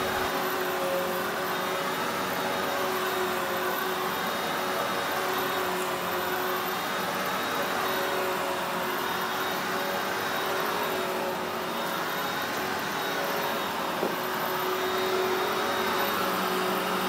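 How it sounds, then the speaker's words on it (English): A vacuum cleaner runs steadily over a basement carpet, a loud continuous whine and roar that holds for the whole stretch with only slight swells as it moves, no talking over it. "I'll let my wife vacuum up a little bit here"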